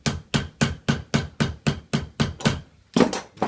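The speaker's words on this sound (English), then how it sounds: "Now on the steel mandrel, just get the mallet, take the 2 ends round" Mallet hammering the two ends of a steel milk can round on a steel mandrel, about a dozen loud, evenly spaced metallic blows close by, alone.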